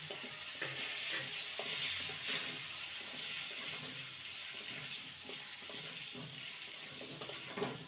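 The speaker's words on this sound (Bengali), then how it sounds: "দু মিনিট টমেটোটাকে নেড়ে নেব" Chopped tomato stirred in a cooking pan for a cabbage and besan vegetarian dish, a steady soft sizzle with continuous light scraping and stirring throughout, fairly quiet and without talk.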